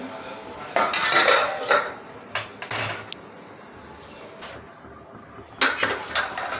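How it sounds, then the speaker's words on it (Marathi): A lid is set back onto a pan of steaming birda vegetable, giving sharp metallic clinks and clatter in short bursts over a quiet kitchen hiss. "आता पुन्हा मी झाकण ठेवून देते"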